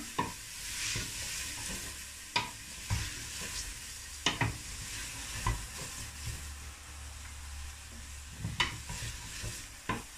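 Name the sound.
stirring food frying in a pan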